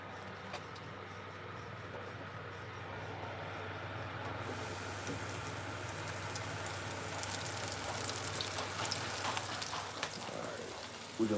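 Eggs with green onion and garden herbs frying in hot oil for an omelette, a steady close sizzle and crackle that grows louder and denser partway through.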